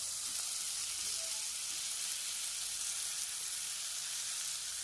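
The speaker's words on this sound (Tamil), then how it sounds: "இப்போ அந்த சிக்கன் அள்ளி இதில் போட்டுருவோம்" Chicken pieces frying in a little oil on a tawa for chicken tawa chilli fry, giving a steady, even sizzle that holds from start to finish without a voice over it.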